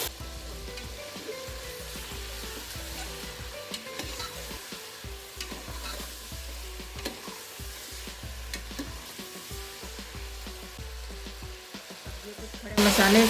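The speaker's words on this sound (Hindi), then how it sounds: "जैसे जैसे घी गर्म होता जाएगा, ये साथ साथ में अच्छे से फ्राई हो जाएगा।" Chicken fries in hot ghee in a pan for a dum chicken gravy, a steady close sizzle with occasional stirring scrapes, growing louder at the very end.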